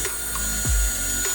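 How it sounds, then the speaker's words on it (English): A power drill working on wooden garden box planks, heard close as a steady mechanical whir with a brief lower ratcheting growl partway through. "Okay, now that we've pre-bore our holes,"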